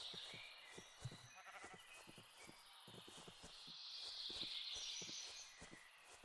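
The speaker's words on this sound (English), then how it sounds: "A black sheep, literally what I was looking for." Sheep bleating in the Minecraft video game, a black sheep and a white sheep among them, heard as soft repeated game bleats over steady background noise and scattered clicks.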